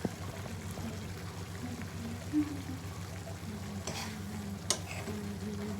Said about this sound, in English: Just keep in mind that it should not get stuck at the bottom of the pan.